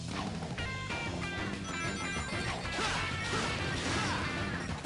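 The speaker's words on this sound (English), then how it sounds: "Smashing robots." Robots get smashed in the Sonic Colours video game, with dense, continuous crashing and metallic impacts layered over bright game tones for the whole stretch.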